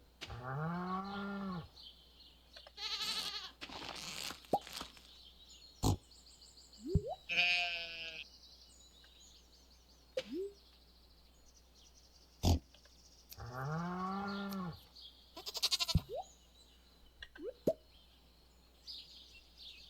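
Sheep bleats and other farm animal calls from a Stardew Valley farm, several drawn-out harmonic cries repeating over about twenty seconds with short clicks and game effects between them, no talking.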